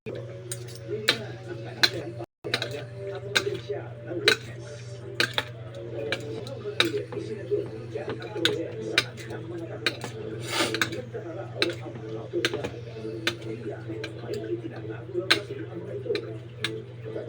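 A spoon stirring a kalamansi drink, tapping the glass in a quick, steady ticking rhythm of clinks close by, with talk faintly in the background.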